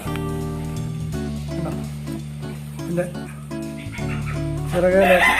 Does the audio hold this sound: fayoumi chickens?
yes